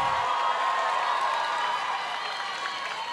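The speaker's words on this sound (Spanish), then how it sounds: "Fuerte el aplauso." Steady, dense applause from a festival show audience in Acapulco, many hands clapping together at an even level for a few seconds with no break.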